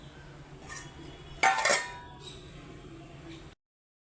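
A metal lid is set onto a cooking pot of egg curry, giving a brief bright clatter and clink that rings out and fades over quiet kitchen background.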